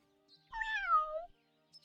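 A single drawn-out meow from a pet cat in the farming-life video game Wylde Flowers, rising then sliding downward over about a second, fairly close and clear, with near silence around it.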